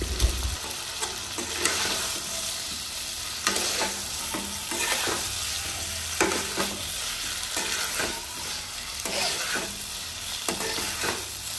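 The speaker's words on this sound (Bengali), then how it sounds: "ডিম দেওয়ার পর নেড়ে চেড়ে আর একটু কষিয়ে নিয়ে" Eggs with potatoes stirred and frying in a pan, steady sizzle throughout with repeated scraping strokes of a spatula at close range, no talking.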